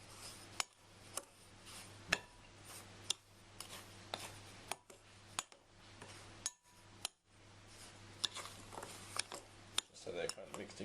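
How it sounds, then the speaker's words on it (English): A spoon clinks and scrapes against a bowl in a steady rhythm of sharp taps while cake ingredients are mixed together, close and fairly quiet with a low hum underneath. "just mix them together with a spoon"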